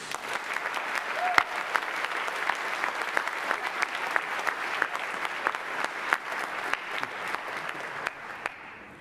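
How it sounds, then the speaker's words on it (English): An audience at a high school senior awards ceremony applauds for graduating students, steady moderate clapping with distinct sharp claps scattered throughout, fading slightly at the close. "let's give a well-deserved round of applause to this amazing group of students"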